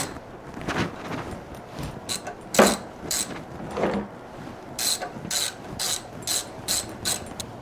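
A ratchet tightens a bolt on a light 68-pound portable generator during a tune-up, giving loud, close bursts of rapid clicking pawl sounds in repeated strokes with a few heavier knocks in between, no talk.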